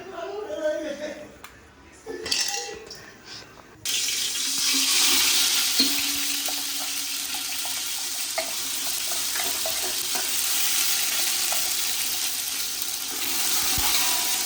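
Mutton pieces sizzle steadily in hot ghee in a pan, a loud continuous hiss and crackle that follows brief cooking talk.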